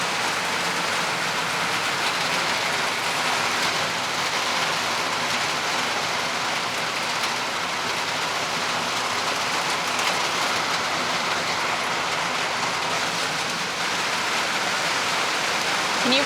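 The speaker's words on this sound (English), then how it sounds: "All right, I've had enough of the rain." Steady, heavy rain pours outdoors at a backyard chicken coop build site in the Carolinas, a dense, unbroken hiss of drops drumming on surfaces for the whole stretch, close and loud.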